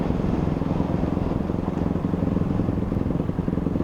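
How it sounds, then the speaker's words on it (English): A four-stroke dirt bike engine held at full throttle on single track through a canyon wash in the Badlands near Lyman, Wyoming, a loud, continuous buzzing roar with no pauses. "But you gotta love that 4-stroke pinned."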